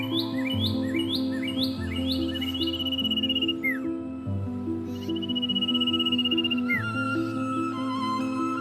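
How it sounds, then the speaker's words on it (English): Birds in the Amazon rainforest give repeated, clear whistled and chirping calls over a steady bed of insect drone, fairly close and loud, with calls coming in rhythmic bursts. "In the Amazon rainforest, the macaw's call not only serves for communication, but also to mark and protect."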